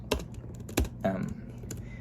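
Typing on a computer keyboard: a few sharp key clacks in quick, uneven bursts, fairly close and moderately loud, with faint background noise and brief voice-like sounds between strokes.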